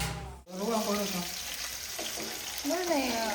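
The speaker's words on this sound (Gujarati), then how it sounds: "તેલ છે ને તે પછી જરી ગરમ થાય તો હું તરવાનું સ્ટાર્ટ કરતા" Vegetables for undhiyu frying in hot oil, a steady close sizzle that starts after a brief cut and carries on under someone speaking.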